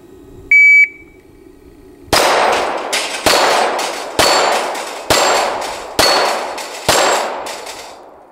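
Bullets strike steel plate targets at an outdoor shooting range, six sharp metallic clangs ringing out at roughly one-second intervals, each decaying into a ringing tail, preceded by a brief electronic beep.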